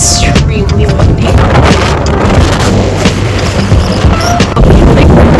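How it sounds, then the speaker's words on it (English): Strong gusts batter the microphone atop a volcanic crater in Iceland, a loud continuous roar with deep rumbling buffets that surge and ease without pause. "Extremely windy."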